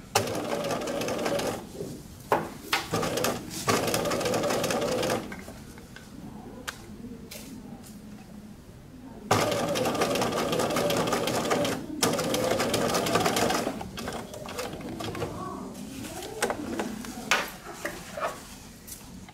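Sewing machine stitching a sleeve placket, its motor whirring in steady, close bursts of needle chatter broken by short pauses and the clicks of fabric being adjusted.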